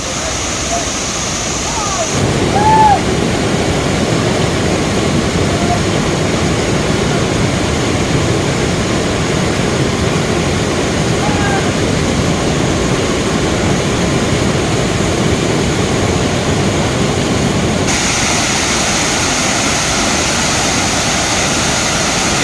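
Rushing water of the Dokmoka Bhelughat waterfall in Karbi Anglong, Assam, a loud, steady broadband roar that holds for the whole stretch, with a brief high tone early on and a slight drop near the end.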